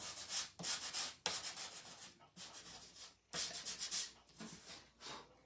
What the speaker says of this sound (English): I'm going to test this one, this top piece a little bit, and sand it